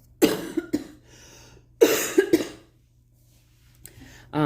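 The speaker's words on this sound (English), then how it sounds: "I would go into coughing fits similar of what I'm experiencing right now" A person coughs in two harsh bursts of several rapid coughs each, close by, with quiet pauses between them.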